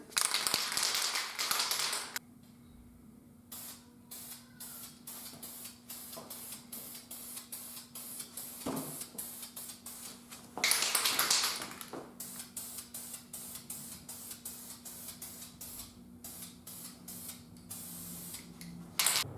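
Krylon spray paint hisses onto steel knuckle and steering parts from a Jeep swap in a garage, coming as repeated short bursts with longer loud blasts near the start and around the middle, with no voices.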